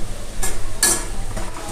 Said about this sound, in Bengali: এইভাবে আমি ডালের বড়াগুলো এক এক করে আমি তেলের মধ্যে ফ্রাই করে নিচ্ছি